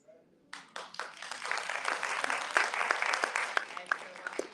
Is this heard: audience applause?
yes